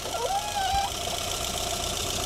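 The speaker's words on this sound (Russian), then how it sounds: "Вот оно, сердце данного автомобиля. Это восьмиклапанный моторчик у нас." An eight-valve VAZ 2110 engine runs under an open hood, giving a low, even mechanical idle with a faint whine above it, close and steady for a couple of seconds.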